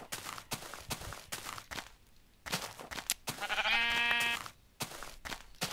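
A sheep bleats in the Minecraft video game, one drawn-out harmonic bleat standing out clearly among scattered game noises and soft footstep-like thuds.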